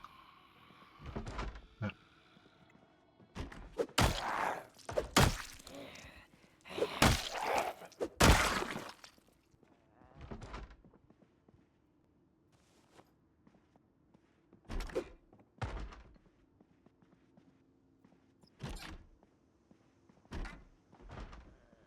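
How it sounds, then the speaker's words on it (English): Loud, repeated banging on a door inside a bathroom with stalls in Project Zomboid, heavy thuds coming in irregular clusters with short gaps between them. The impacts sound near and echo faintly, and no one speaks. "I'm hearing somebody banging a door in there."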